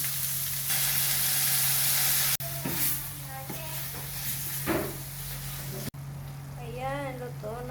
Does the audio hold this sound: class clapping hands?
no